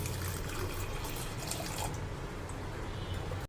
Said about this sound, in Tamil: தண்ணி ஊற்றணும், 2 லிட்டர் தண்ணி ஊற்றணும்.